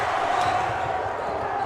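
Crowd noise at a high school boys' basketball senior night game, a steady murmur filling the gym with faint ball bounces beneath, no clear speech.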